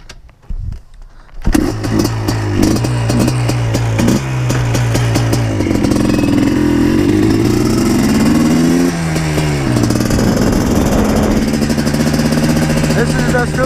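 Blaster 200 ATV engine running nearby, a loud steady idle whose pitch sags and wavers as the revs settle down, with a voice talking over it.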